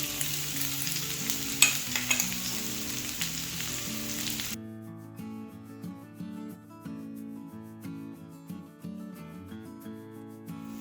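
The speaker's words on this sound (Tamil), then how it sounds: "இதை வந்து நம்ம கொஞ்ச நேரம் சாட்டே பண்ணாலே போதும்" Potatoes coated in spice powder and oil sauté in a pan, giving a soft, steady sizzle with light stirring scrapes for a few seconds before the sound drops away under background music.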